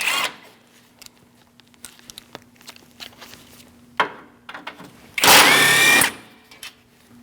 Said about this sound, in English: Using a 10mm, we're going to remove the bolts.